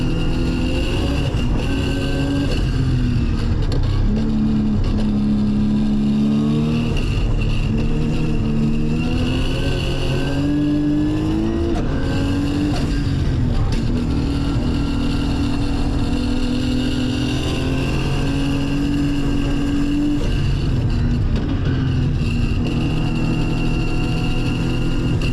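A Nissan GT-R race car drives a flying lap around a track in Las Vegas, its engine revving hard through repeated rising and falling pitch sweeps with gear changes, loud and continuous throughout.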